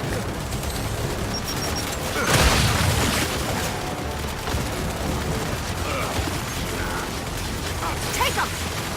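A grenade blast and gunfire ring out in the Gears 5 campaign. A heavy burst lands early, followed by scattered shots and mechanical clatter at moderate volume.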